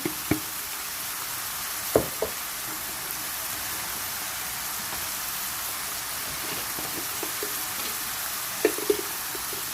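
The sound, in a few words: spiced minced meat frying in a pan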